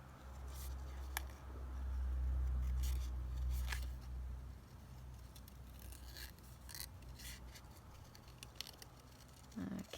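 Soft, quiet snips of scissors cutting around a pressed flower snippet roll for paper ephemera, intermittent crisp cuts close up over a low background hum, no talking.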